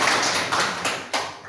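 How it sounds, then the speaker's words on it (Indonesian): A short burst of hand clapping from a small church congregation during a worship service, brief and close. "kita berikan tepuk tangan"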